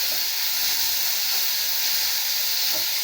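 Curry leaves and green chillies sizzle in hot oil for a banana stem stir-fry, a steady bright hiss held loud and close throughout, with no talking.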